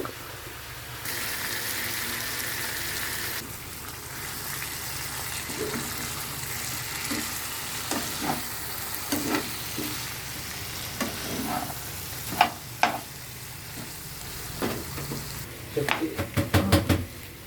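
Chicken pieces coated in biryani and garam masala fry in a pan with a steady close sizzle, broken by scraping stirs and a flurry of sharp utensil clinks near the end.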